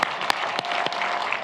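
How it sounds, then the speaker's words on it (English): A few loud, sharp hand claps right in front of a microphone at a university commencement, isolated bursts over a dense, continuous background of crowd applause. "I guess maybe I shouldn't clap in front of the mic"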